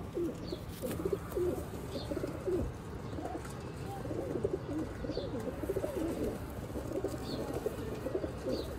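Grey pigeons coo steadily in a loft, with low, rolling calls overlapping and repeating throughout at close range. Faint higher chirps break through now and then.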